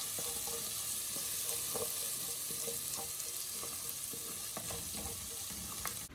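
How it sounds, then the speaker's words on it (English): Ginger garlic paste and a cinnamon stick fry in hot oil on a gas stove for a Sri Lankan mango curry, giving a dense, steady sizzle with occasional faint clicks from stirring, close and continuous, with no voices. "Fry it in the oil."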